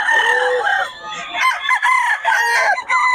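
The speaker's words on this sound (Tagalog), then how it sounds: "Hoy, quality mga manok ni Boss Gaga" A rooster crows loudly and close, with other chickens crowing and clucking in overlapping calls.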